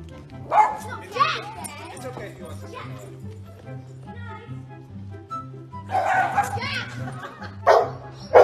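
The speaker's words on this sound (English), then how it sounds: "The dog in my neighbor's garden was crying cuz they went to work." A dog in a neighbouring garden whines and yelps after its owners have gone to work, heard in short bursts around children's voices and playful chatter, with a steady low hum running underneath.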